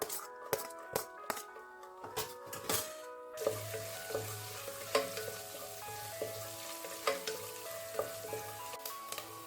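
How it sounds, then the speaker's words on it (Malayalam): Coconut pieces fry in ghee in a pan for a Kerala banana payasam. The sizzle is continuous and close, broken by occasional stirring clinks against the pan. "ഇതിലേക്ക് നമുക്ക് തേങ്ങാക്കൊത്ത് വന്നിട്ട് വറുത്തെടുക്കണം."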